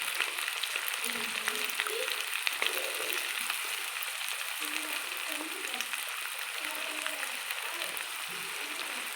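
Washed chicken liver pieces fry in a pan with a soft, continuous sizzle and crackle, fairly quiet, under someone talking.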